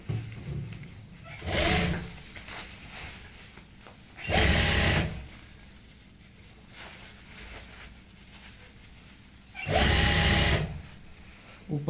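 Short bursts of a sewing machine stitching handbag fabric come in three separate runs, close and fairly loud, with quieter handling sounds in the gaps.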